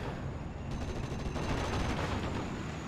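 Continuous dense crackle of distant battlefield gunfire in the WWII strategy game Steel Division: Normandy 44 at Sainte-Mère-Église, a steady roar of overlapping shots with no speech.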